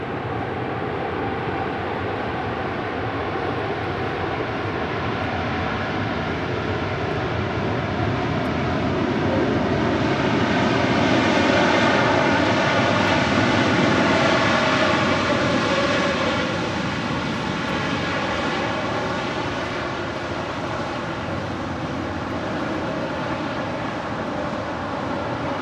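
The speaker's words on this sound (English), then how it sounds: "That is the Cathay Pacific Cargo Queen 747-8 coming in from Anchorage, landing here on 25 left, looking like it's going to go long here." A Cathay Pacific Boeing 747-8 freighter landing on runway 25L at LAX after a flight from Anchorage, its jet engines roaring loud and steady across the whole stretch, swelling to a peak in the middle before easing slightly.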